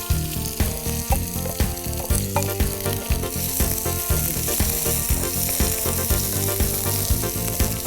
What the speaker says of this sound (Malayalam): അപ്പോൾ ചുവന്നുള്ളി ചെറുതായി അരിഞ്ഞത് ഇടുവാണേ.